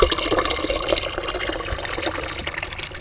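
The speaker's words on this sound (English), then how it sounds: "Now we're filling up the bucket." Water gushes steadily into a bucket being filled, a loud close splashing pour that continues without a break.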